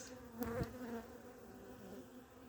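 Honeybees buzz softly around an opened wintering hive in December, a continuous low hum with one bee passing close and briefly louder.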